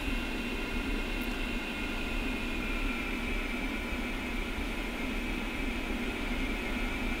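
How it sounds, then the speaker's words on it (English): A-10C jet engines in DCS run at a steady, loud whine and rush while the aircraft taxis, a constant broadband roar with no change over seven seconds. "Okay, so now we throttle up. And I'm starting with a light taxi here."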